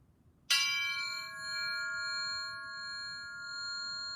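A metal resonance bar held at its middle is struck once by a hammer, giving a sharp attack that settles into a clear, sustained ringing note with bright overtones, slowly fading and heard alone.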